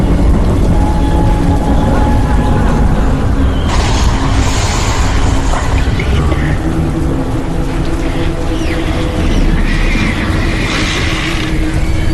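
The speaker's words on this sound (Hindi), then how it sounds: "इधर तेज बारिश होने की वजह से गुल्ली बुल्ली के घर की लाइट जा चुकी है" Loud, steady downpour with deep rumbling thunder rolling through, a dense roar without pauses and no voices.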